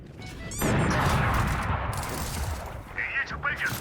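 Video game missiles launch all at once in a sudden loud, dense barrage that rumbles on for several seconds, then breaks into a few sharper bursts near the end.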